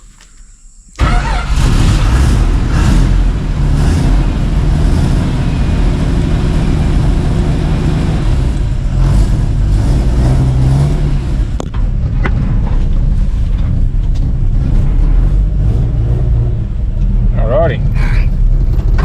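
An International truck's V8 engine runs loud and close under throttle, a steady heavy rumble that holds for most of the stretch after it kicks in.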